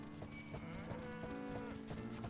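Goat bleating while it chases the player in Final Fantasy XIV, a nasal, drawn-out animal cry layered over continuous game music, with no talking.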